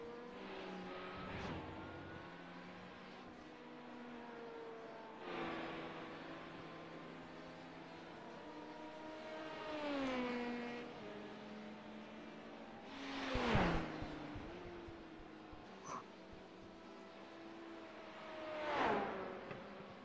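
LMP2 prototype race cars roll into the pit lane in a racing sim, engines droning and shifting pitch in several waves, with sharper bursts as cars pass at moderate distance.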